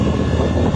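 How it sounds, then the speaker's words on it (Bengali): Motorbike engine pulling up a steep hill road near Thanchi in Bandarban, heard as a brief, loud, steady rumble mixed with wind buffeting. "গাড়ির সাউন্ড"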